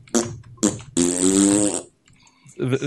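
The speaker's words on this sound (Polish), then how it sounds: "To był pierd mocy." A Minecraft video game fart sound plays as two short blurts and then one longer, loud, buzzing fart, followed by a brief burst of voice.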